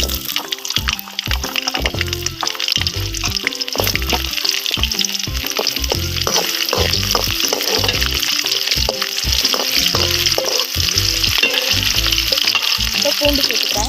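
Small peeled onions drop into hot oil for a dry fish gravy, giving a steady loud sizzle and crackle with rhythmic clattering and scraping throughout, close and continuous, with no talking.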